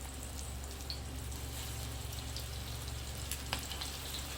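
Fish pieces frying in hot oil in a pan, a faint continuous crackling sizzle with scattered pops over a steady low hum, quiet and without talk.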